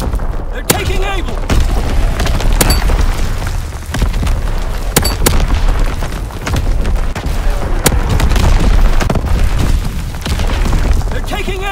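Artillery strikes pound a Call of Duty-style video game battlefield: heavy booms hit repeatedly amid dense, continuous gunfire and combat noise, loud and close throughout, with a few sharper blasts standing out.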